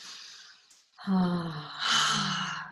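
A person makes a slow audible exhale after squeezing during a relaxation exercise. A soft breathy sigh starts quietly, then swells into a longer, fuller release of breath, close and alone.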